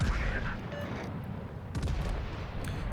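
Heavy naval gunfire from battleships in World of Warships, a German Mecklenburg engaging a Yamato and a Kürfurst at long range, with low booming rumbles layered over a continuous roar of battle and a sharp blast near the end.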